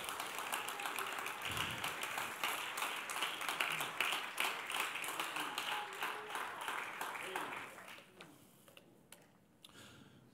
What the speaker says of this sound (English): Come on, let's clap our hands unto the Lord.